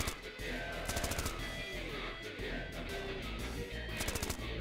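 Rapid bursts of gunfire from the Manual Samuel video game crackle over a dense, noisy game soundtrack, with repeated volleys at the start and end.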